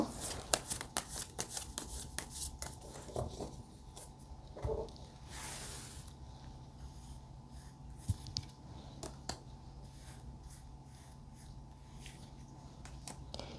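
Tarot cards being shuffled and drawn up close, with quick bursts of papery riffling and sharp card snaps at the start, then softer sliding and occasional taps over a quiet background.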